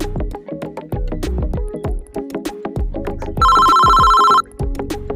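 A phone rings with an incoming call in a village setting, a loud electronic ringtone with a sustained tonal burst partway through, layered over a busy rhythmic musical backdrop with no talk.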